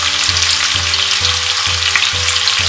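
A chopped medium-sized onion with a little salt fries loudly in a pan, stirred in regular strokes about twice a second over a dense, constant sizzle.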